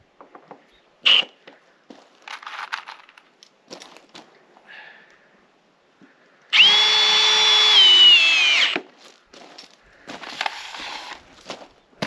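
A Milwaukee power drill drives screws to fasten glued layers together: one loud, close whirring burst of about two seconds with a slight pitch shift, with short clattering handling noises before and after.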